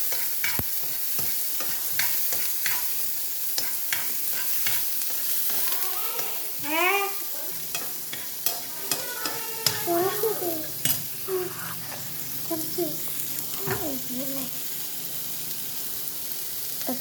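Chili and garlic stirred and fried in a pan, a steady sizzle broken by repeated scraping and clinking strokes of a spoon against the pan, with a few brief bird-like chirps partway through.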